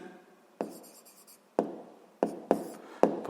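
Pen on paper writing out a physics problem, heard as a series of short scratchy strokes in separate bursts, close and fairly quiet.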